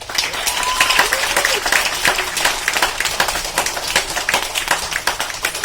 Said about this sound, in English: Give a big round of applause for them